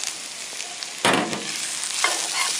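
Onions sizzling with crumbled vegan sausage in a heavy cast iron pan over medium-high flame, a steady close frying hiss broken by a few louder bursts of stirring and scraping.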